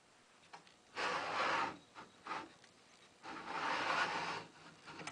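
The Y axis carriage of a RepRap 3D printer slides back and forth on its mount, not yet oiled, making two longer grinding, rubbing passes with shorter ones between, quiet and close.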